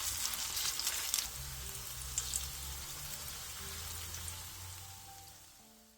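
Zucchini pancakes fry in an oiled pan with a steady, close sizzle and faint crackling spatter. The sizzle stays even throughout and fades slightly toward the end, with no voices over it.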